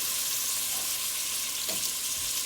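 Onions frying in a pot alongside carrots, a steady hissing sizzle throughout, close and even, with a brief stir midway.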